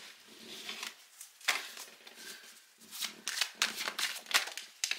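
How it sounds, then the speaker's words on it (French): Dropped tarot cards are picked up and gathered, making soft papery slides and crisp flicks in irregular bursts, close and quiet. "Oh, j'ai fait tomber plusieurs cartes."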